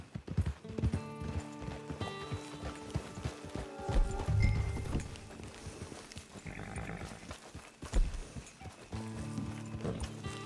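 Horse hooves clip-clop in a steady rhythm amid a busy Red Dead Redemption 2 game soundscape with music and animal bleats, fairly near and moderately loud.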